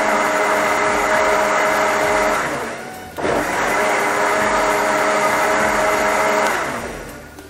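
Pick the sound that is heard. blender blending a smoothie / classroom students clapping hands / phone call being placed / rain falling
blender blending a smoothie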